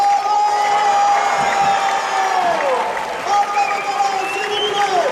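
Crowd in the Arles arena at an international recortadores contest applauding and cheering steadily, with a sustained whistle-like tone running over the dense clapping and shouts.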